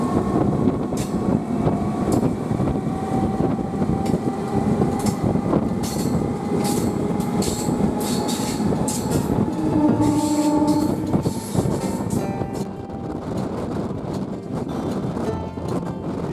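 A MEMU passenger train on the Bankura–Masagram line rolls steadily through a curve near Rainagar station, with a continuous rumble of wheels on track, rhythmic clacks and faint wheel squeal throughout.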